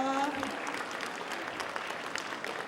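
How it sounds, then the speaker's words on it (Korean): Audience applause at a Korean science concert event, a brief burst of crowd clapping following a host's speaking, moderately loud and steady. "여러분 큰 박수 한 번만 부탁드릴게요"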